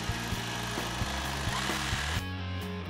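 A power drill whirs steadily with a rapid rhythmic hammering pulse as it bores into a wall to mount security equipment, then cuts off near the end.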